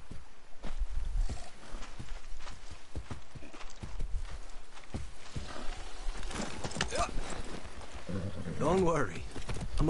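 A horse in the video game Far Cry 6, steady clip-clop hoofbeats through the scene with splashing and a short whinny near the end.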